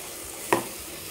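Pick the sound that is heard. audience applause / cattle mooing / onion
onion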